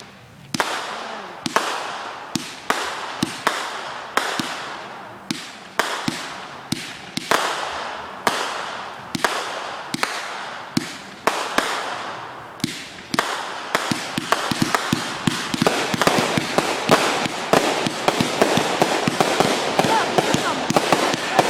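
Fourth of July fireworks on Eagle Hill Road burst in sharp, rapid cracks, sparse popping at first and building into a dense, continuous barrage of loud firecracker-like bangs, with faint voices now and then.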